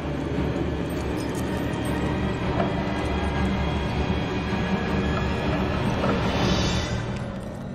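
A train in a video game rumbles along its rails in one steady, loud, dense roar with a faint clatter of wheels that holds for the whole stretch and eases slightly at the end.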